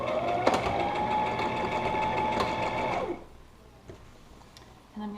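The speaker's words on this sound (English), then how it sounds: "I'm just sewing to the right of the seam" A sewing machine runs steadily stitching a fabric face mask, a close whirring mechanical hum for about three seconds before stopping, followed by quiet handling noises.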